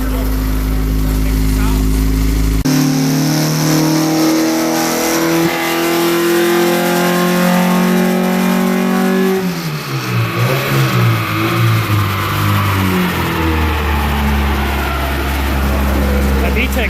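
A loud tuned Honda Civic with a swapped H22 engine revs hard on a dyno and climbs steadily in pitch, then drops back and rumbles, close and continuous.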